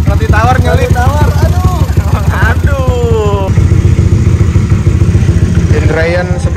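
A Yamaha Aerox scooter with a bore-up, stroke-up engine of nearly 300cc idling close by, a loud, steady, throbbing rumble with people talking over it.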